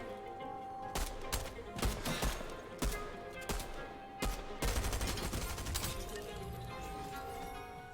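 Gunfire in Fortnite: a series of sharp, loud shots in irregular rhythm, some single and some in quick clusters, followed by a denser crackling volley, with no talk over them.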